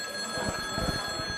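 A telephone rings with a steady, fairly loud electronic tone that sustains through the moment, with no voices over it.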